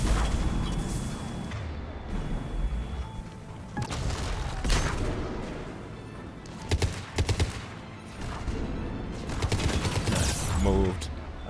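Grenade blast and combat fire in Mass Effect 3 Legendary Edition at Grissom Academy, a steady din of battle with several sharp bursts and a clustered volley of pops, while a person talks over it.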